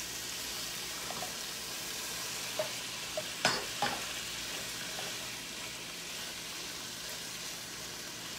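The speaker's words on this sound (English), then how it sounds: "we're just getting these seared nice and lightly" Chicken thighs searing in a hot pan give off a steady, broad sizzle throughout, with a few faint clinks and taps of utensils against the pan partway through.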